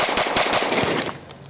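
Rapid string of pistol shots fired during a Bill Drill on a shooting range: a quick, evenly spaced burst of loud cracks, close and unbroken, with no talking.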